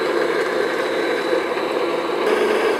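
An electric mixer runs steadily at medium speed, beating sticky toffee pudding batter in a bowl, giving a continuous, fairly loud whirring hum with no pauses.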